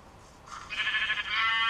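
Sheep in the Minecraft game Mineplex bleating, a short drawn-out tonal bleat that swells and grows louder toward the end, clear and alone with no talk.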